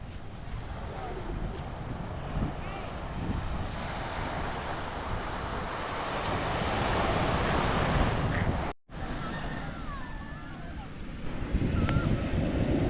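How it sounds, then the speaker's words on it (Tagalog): Big ocean waves crashing and rumbling around a small fishing boat during traditional net fishing, with heavy wind buffeting the microphone and a brief dropout partway through. "Malalaki ang alon."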